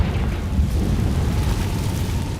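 A Confringo fire spell explodes in Hogwarts Legacy, giving a deep, rumbling blast that stays loud and steady with a roaring low-end tail and no clear separate hits.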